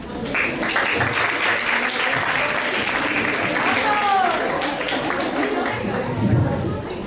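Loud applause from an audience after a poetry recitation, a thick roar of clapping with some crowd chatter and a brief whistle, swelling and holding strong before easing near the end.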